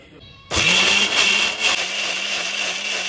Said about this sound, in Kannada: ಒಂದು ಟೇಬಲ್ ಸ್ಪೂನ್ ಅಷ್ಟು ಏನಂತಾರೆ ಪೆಪ್ಪರು, ಮತ್ತು 2 ಲವಂಗ, ಮತ್ತು ಏಲಕ್ಕಿ, ಒಂದು ಸಿನಮನ್, ಇಷ್ಟು ಮೆಣಸಿನ್ಕಾಯಿ, ಇದಿಷ್ಟನ್ನ ಮಿಕ್ಸಿಗೆ ಹಾಕೊಂಡ್ಬಿಡ್ತೀನಿ.